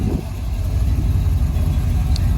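A Chevrolet C10 truck engine runs steadily after an oil pan cleaning and gasket service, giving a constant low rumble close by with no talk over it.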